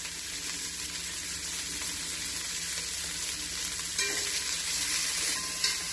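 Pasta sizzles steadily as it fries in a cooking vessel, a dense unbroken hiss with a slight swell near the end as it is stirred, no voices over it.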